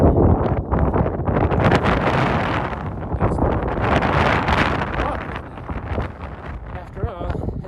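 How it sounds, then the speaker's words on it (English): Strong wind on a mountain hiking trail roars loudly across the microphone in continuous gusts, buffeting throughout with a voice faintly under it now and then. "That is some wind blowing."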